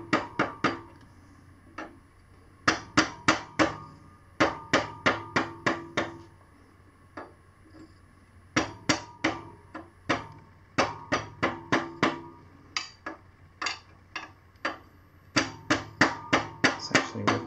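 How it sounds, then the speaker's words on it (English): A rubber hammer strikes a T-handle socket set against the rear shock preload collar of a Sur Ron Light Bee electric motorcycle. The blows come as sharp, close, repeated knocks in uneven bursts of two to six, with short pauses between bursts and no voices. "I'm just going to hit it with this rubber hammer here."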